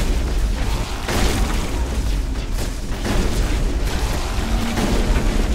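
A shotgun fired during Mass Effect combat against charging creatures, giving loud booming blasts over a dense, continuous backdrop of game noise and rumble.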